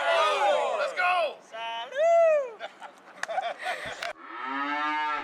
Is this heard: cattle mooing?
yes